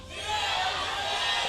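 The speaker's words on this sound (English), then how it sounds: "Big cheer from the CJ fans in game number 2." League of Legends esports fans at a CJ Entus versus KOO Tigers LCK match give a broad, steady crowd cheer that swells at the start and holds as a dense roar.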